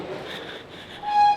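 A train stands at a station in England, its steady rail rumble and platform ambience continuing, then a clear sustained electronic tone sounds near the end, close and fairly loud.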